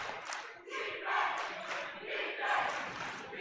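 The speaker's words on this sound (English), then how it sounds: "Crowd coming alive, urging the defense on for the Bison" A home crowd at a boys' high school basketball game between South Bison and Riverton Wolverines cheers and shouts in surging, rising waves, urging on the defense.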